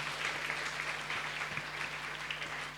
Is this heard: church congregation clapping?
yes